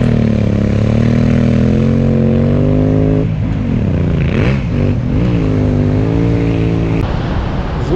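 A motorcycle on a Moroccan trip to Plage Blanche beach drones loud and close with a steady engine note, then revs up and down in a few surges as it pulls away.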